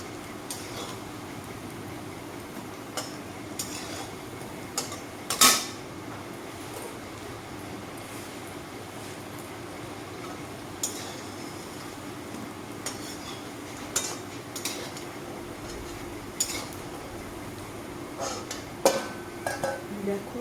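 Fried vegetarian fish pieces are lifted out of a pan with a utensil, making sparse metallic clinks and scrapes over a low steady background hum.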